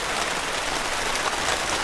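Heavy rain falls outside on a dark early morning, a dense, even hiss of drops that holds steady and fairly loud with no voices.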